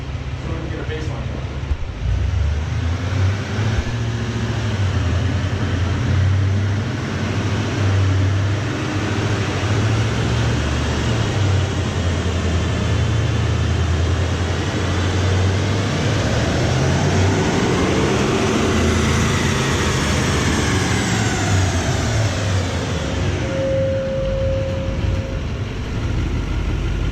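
An L5P Duramax diesel pickup with a K&N intake, on its stock tune level, runs hard on a chassis dyno: a loud, steady engine roar that climbs in pitch through a long pull, then drops away near the end.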